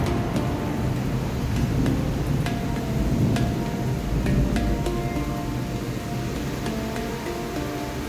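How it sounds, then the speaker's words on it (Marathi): A deep, continuous rumble of thunder rolls through the whole stretch, heavy and low, with a few faint higher clicks on top. "ढगांचा आवाज ऐका बरं."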